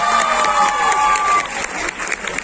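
A crowd at an award ceremony applauds the Moinul Uloom school with dense, loud clapping and cheering that continues through the whole stretch.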